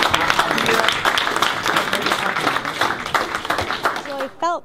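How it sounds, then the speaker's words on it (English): Applause and clapping from the audience at a post-fight boxing press conference, steady for several seconds under a voice on the microphone, then fading as speech takes over at the end. "let's give a big round of applause for"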